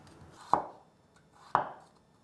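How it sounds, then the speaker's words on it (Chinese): Two sharp knife chops slice through a peeled carrot on a cutting board, about a second apart, each a crisp close thud with a short ringing tail in a quiet kitchen. "把红萝卜切片，切了1刀之后，这样子站稳在砧板上"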